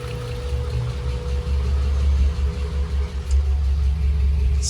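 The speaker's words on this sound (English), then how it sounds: "But the car runs, as you can hear it, it is way quieter." An Acura Legend Coupe that sat unused for over three years idles low and smooth at roughly 750 RPM, a steady close deep rumble with a faint even pulse and no revving.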